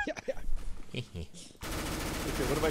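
Sustained rapid automatic gunfire in CS:GO on the Mirage map, a loud continuous burst taking over after a stretch of voices talking over the game.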